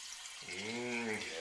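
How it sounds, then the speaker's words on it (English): Gasoline poured into the tank of a multi-fuel kerosene-diesel heater, a Protemp PT 70 SS, sounding as a brief close liquid glug and stream that rises in pitch as the tank fills. "Just fill this whole thing up with gasoline."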